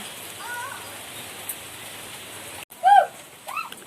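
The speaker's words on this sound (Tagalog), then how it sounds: "Lakas ng ulan na naman, oh." Steady rain hisses throughout, with a few bird chirps cutting through near the end.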